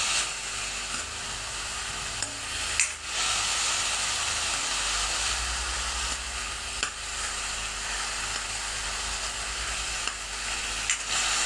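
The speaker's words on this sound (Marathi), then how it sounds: "तुपामध्ये परतवून घ्या बीट" Beetroot stir-fries in ghee in a pan for beetroot laddu, a continuous moderate sizzle and hiss with intermittent stirring clinks and scrapes.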